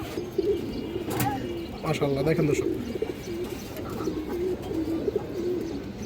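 Pigeons, including a silver female, coo in repeated low throaty rolls near at hand, while someone talks briefly over them partway through.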